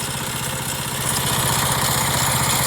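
Engine of an active rotary tiller preparing soil for lawn grass, a steady, loud mechanical drone with rapid pulsing that rises slightly in level and runs continuously with no talk.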